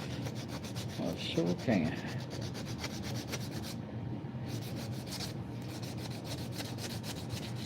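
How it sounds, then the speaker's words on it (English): A Dremel buffer polishes the back of a knife blade, giving a steady, close rubbing and whirring hiss that runs throughout, with a brief spoken reply early on. "Yeah, the Dremel buffer on the back."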